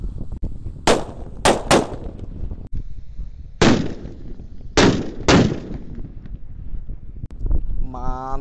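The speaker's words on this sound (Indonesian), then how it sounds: "Lanjut kita nyalakan mercon disco happy flower yang warna ungu bosku," Purple disco happy flower firecrackers, three lit at once, go off outdoors in a series of sharp loud cracks separated by pauses over wind noise, ending with a faint whistling tone.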